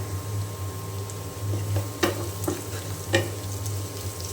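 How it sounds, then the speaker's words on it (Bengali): Onions frying in a pan, with a spoon stirring and scraping against it in a few distinct strokes over a steady low sizzle and a constant stove hum. "পেঁয়াজটা আমি আরও একটু ভালো করে ভেজে নেব"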